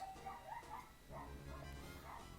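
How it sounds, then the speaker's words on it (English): Dogs barking and yipping at a distance, several quick excited barks with whimpering, faint and somewhat muffled. "Oh, the dogs are going nuts."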